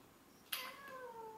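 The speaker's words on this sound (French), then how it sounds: "J'ai le chat qui arrête pas de miauler." Domestic cat meowing indoors: a single drawn-out, falling meow starting abruptly after a quiet moment, fairly close and clear against a faint background.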